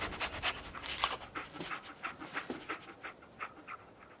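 Dogmeat, the dog from Fallout 4, panting rapidly in quick rhythmic breaths, close and fairly loud with no talk over it.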